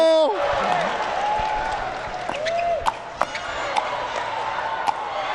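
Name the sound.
tennis crowd cheering and applauding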